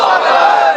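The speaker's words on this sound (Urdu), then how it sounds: "آئیے ایک مرتبہ تکبیر اور رسالت کی صدا بلند کریں، نعرے تکبیر،" A large crowd at a religious gathering chants the Nara-e-Takbir slogan in one loud, sustained collective shout lasting under a second, many voices blended together.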